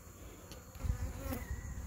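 Honey bees from a gentle stock buzzing as a faint, steady drone, with a couple of slightly louder passes close by, no talking.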